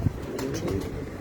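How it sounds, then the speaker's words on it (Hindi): A pigeon on a rooftop gives a brief, soft coo, close by and alone, with faint background noise. "ये भी बहुत अच्छा कबूतर है जी।"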